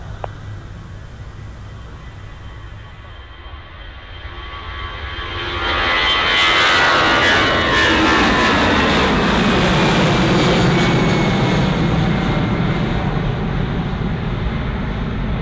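An easyJet jet airliner takes off from runway 27 at Bristol Airport, its engine roar building sharply after a quieter start and then holding loud and broad as it powers down the runway.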